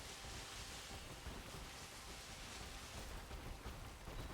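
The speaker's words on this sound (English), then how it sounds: "Fast travel to somewhere else on the map and it's still raining." Steady, faint rain hiss in Pokémon Scarlet/Violet, a continuous wash of even noise with no distinct drops or thunder claps, heard alone without talk.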